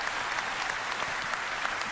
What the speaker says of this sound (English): round of applause for the DE team